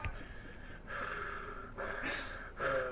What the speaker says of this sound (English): I could hear you breathing really loud in the podcast